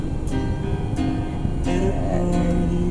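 Music from the speakers of a Toyota Wigo's 10-inch Android head unit, heard inside the car: a continuous, fairly loud tonal mix with sustained notes and steady rhythm, no talking over it.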